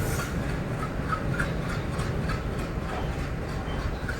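A Salem–Karur DEMU express train pulling out of Salem Junction, heard from on board as a steady rumbling roll with faint rhythmic clicks of wheels over rail joints, continuous and moderately loud.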